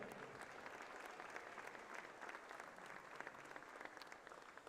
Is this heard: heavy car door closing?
no